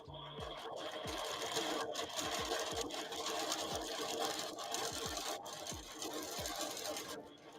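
A sewing machine runs steadily, close and loud, while stitching around an applique wing with an applique helper guide in freehand quilting. A soft mechanical drone with faint periodic thumps carries on throughout, with no speech.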